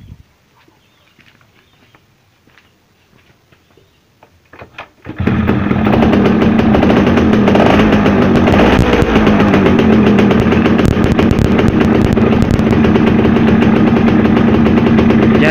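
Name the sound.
Yamaha F1ZR motorcycle engine starting and idling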